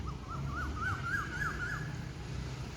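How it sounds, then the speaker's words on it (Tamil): Birds call in a grove where peacocks display, with a repeated rising and falling whistled phrase sung several times over a steady, noisy outdoor background. "நல்லா பறவைகள் ஒலியெல்லாம் இருக்குது பாருங்கள். பறவைகள் ஒலி எழுப்பிட்டுருக்கு."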